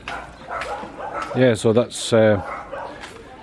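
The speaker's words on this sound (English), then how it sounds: "Sorry about the dogs barking." Several dogs barking in the Philippines, a burst of loud, close barks in the middle of the clip, with someone speaking softly before and after.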